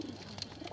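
Pigeons coo in a home loft, a brief soft burbling murmur close by with no voices.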